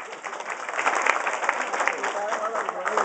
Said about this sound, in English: Clap if you're over 40.